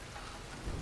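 Rain in the video game Tomb Raider: a dense, steady wash of rainfall with a low rumble swelling near the end, heard alone for under a second.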